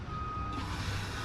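A steady, high reversing beep sounds over the low rumble of a large idling truck engine.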